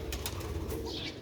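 Sialkoti pure-breed pigeons coo softly at close range over a low, continuous background rumble, with a brief higher chirp-like call near the end.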